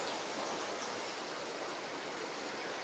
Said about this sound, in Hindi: बारिश हो रही है झमाझम।